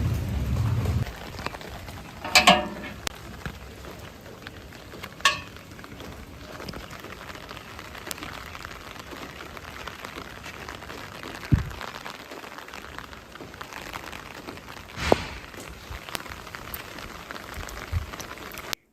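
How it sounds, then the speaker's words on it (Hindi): Steady rain falling outside a house after a long stretch of heat, a continuous soft hiss of drops on surfaces, with occasional louder splats and drips standing out now and then. "क्योंकि बाहर बारिश हो रही है"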